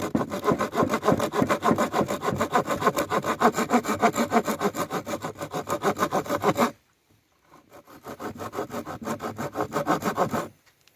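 Wood is sawn by hand while building a guitar-banjo, a long run of steady rasping back-and-forth strokes, a brief pause, then another shorter run of strokes, close and fairly loud.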